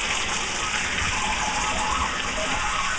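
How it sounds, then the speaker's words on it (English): Water overflows from a 35-gallon drum lying on its side, making a steady, close gushing pour that stays constant and strong with no voices. "Okay, it's overflowing now. Water coming out."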